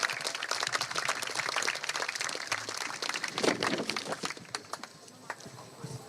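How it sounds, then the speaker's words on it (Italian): An audience applauds at the Miss Città Murata 2026 final in Cittadella, Padova, welcoming the mayor; scattered claps build into a moderate burst, then thin out toward the end, with some voices underneath. "facciamolo un grande applauso e accogliamo il sindaco per un discorso iniziale"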